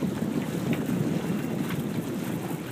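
Sailboat under way at about six knots with a reefed mainsail: steady rushing wind and water noise, with wind buffeting the microphone and no voices.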